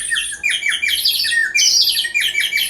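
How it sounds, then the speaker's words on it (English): An oil-filled bird whistle on a 1920s Wurlitzer theater organ gives quick, bright warbling chirps in rapid repeated bursts, close and clear. "this bird sound, and that's original. That's Wurlitzer from the 1920s."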